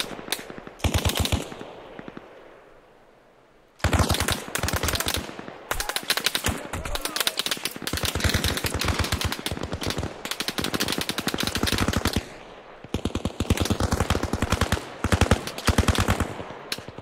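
Machine-gun fire in the video game Arma Reforger rings out in loud, rapid bursts, first a short volley, a brief pause, then long sustained strings of shots with small gaps between them.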